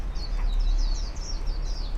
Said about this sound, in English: there's more birds in the back.